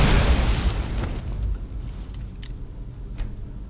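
A magic rune detonates on enemies in Skyrim, a heavy booming blast that hits hard at once and then rumbles and crackles away over several seconds, with a few faint pops in the tail.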